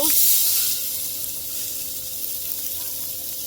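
Onions hit hot oil in a pan for an egg bhuna: a loud burst of sizzling at the start that settles into a steady, softer frying hiss.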